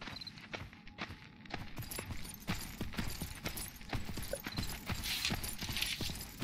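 A horse's hooves clip-clop steadily as it follows the player in Myth of Empires, a quiet, even rhythm of light hoof strikes over the whole stretch.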